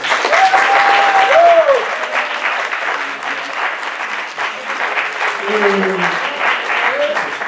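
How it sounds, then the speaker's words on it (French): Audience applause at an event against homophobia: sustained, dense clapping from a crowd that fills the whole stretch, with a voice or tones rising briefly over the clapping. "j'aimerais vraiment qu'on les applaudisse encore une fois"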